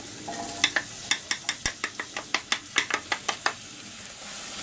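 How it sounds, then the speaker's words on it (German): Shallots and garlic sautéing in a pan, a low sizzle broken by a quick, regular run of sharp spatula taps and scrapes near the middle. "die Zwiebel und der Knoblauch sollen glasig werden"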